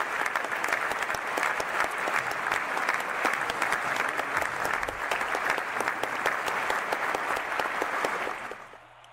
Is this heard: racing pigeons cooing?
no